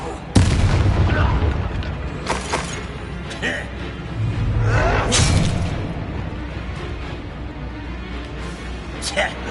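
A Confringo spell explosion in Hogwarts Legacy: a loud booming blast followed by several further bursts and whooshes, with a voice speaking around them.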